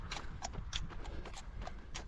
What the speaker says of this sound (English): there are some horses walking on the road